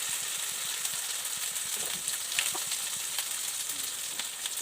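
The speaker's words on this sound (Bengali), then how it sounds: "দেখো পটলটা ভাজা হয়ে গেছে" Pointed gourd (potol) frying in a pan with a paste of green chilli, rice, melon seeds and poppy seeds, giving a steady, close, loud sizzle with small crackles and the occasional stir.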